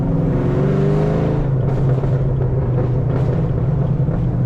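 A cammed Chevrolet Camaro ZL1 cruises a back road, its engine a loud, continuous low drone heard from inside the car, with the pitch shifting slightly partway through and no voices.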